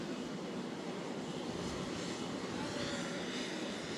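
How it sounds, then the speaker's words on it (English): A jet aircraft taxis in on an airport tarmac, a steady, loud, broadband engine roar with a whining rush that holds constant throughout. "to accommodate the jet coming in a little further on the tarmac"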